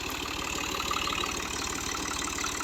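A Fiat 480 tractor engine with power steering idles steadily nearby, its low, even chugging pulse continuing without a break.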